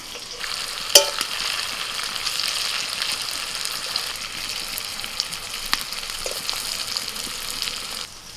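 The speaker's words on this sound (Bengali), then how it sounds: "দু পিঠ উল্টে পাল্টে ভেজে নেব" Pea kebabs sizzle steadily in hot oil while they are turned over. A sharp clack from the utensil opens the sound, then an even, close frying hiss continues without speech.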